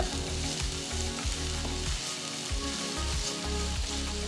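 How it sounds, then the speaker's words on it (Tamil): Steady oil sizzle of chopped onion, garlic and chili sautéing, with bursts of stirring and scraping in a pan, continuous and close, no voices. "அப்புறம் 1 வெங்காயம் பொடியா நறுக்கினது சேர்த்து வதக்குங்க."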